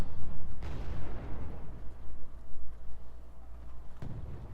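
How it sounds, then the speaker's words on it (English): Artillery fire in the Wargame Red Dragon game during a 10v10 multiplayer match, with heavy booming blasts including sharp impacts near the start and end and a continuous low rumble in between. "look at all this incoming artillery fire"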